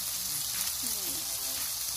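Garlic sizzles and fries in a pan with a loud, steady crackling hiss that fills the whole moment, a faint scrape of stirring mixed in.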